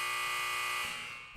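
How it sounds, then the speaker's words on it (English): A sustained electronic buzzer tone, steady and fairly loud with a harsh harmonic edge, fading slightly at the end of its brief sounding. "with a buzzer, with a buzzer, with a buzzer."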